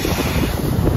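Rough ocean surf rolling in, too rough for snorkeling, a steady loud rushing wash with heavy wind buffeting the microphone.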